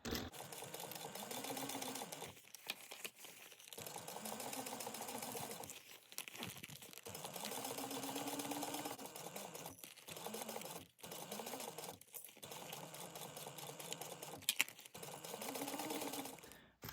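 A sewing machine top-stitches a crossbody bag in long, even whirring runs broken by brief stops and rustling as the fabric is turned, with a faint rising and falling motor hum throughout.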